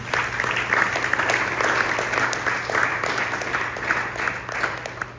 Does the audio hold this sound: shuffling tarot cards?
no